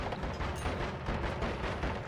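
Dense, continuous gunfire and explosive bursts in the roguelike video game Noita, a busy, rumbling barrage of rapid shots layered over one another for a couple of seconds, with no pauses.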